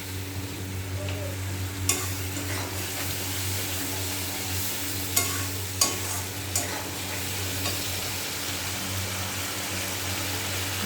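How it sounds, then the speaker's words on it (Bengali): Spice paste with turmeric and cumin powder fries in a pan while being stirred, giving a steady close sizzle with occasional sharp scrapes and clicks of the spoon. "এবার মশলাটাকে কষতে দেবো।"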